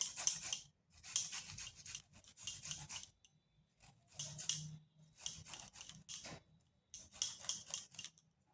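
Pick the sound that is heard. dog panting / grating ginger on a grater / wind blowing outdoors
grating ginger on a grater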